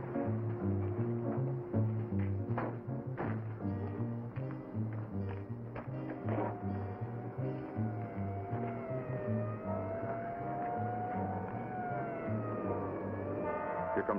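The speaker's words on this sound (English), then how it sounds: "Here comes the ambulance." A wailing siren rises and falls at a distance over rumbling traffic and clattering noise, growing a bit clearer toward the end.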